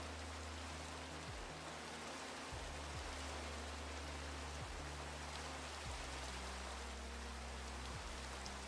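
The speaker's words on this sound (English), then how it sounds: "you guys were wanting rain while we were listening to Lo-Fi." Steady rain sound, a dense hiss of falling drops played during a lo-fi music stream, constant and fairly loud throughout, with low tonal music notes and periodic soft thumps beneath it.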